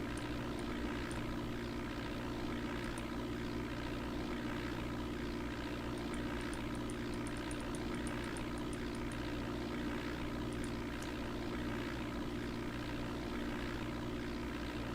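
A propeller aircraft engine drones steadily in the Flight Simulator 4 video game, a constant even hum with no breaks, fairly quiet and heard alone.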